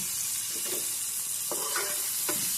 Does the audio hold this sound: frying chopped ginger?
yes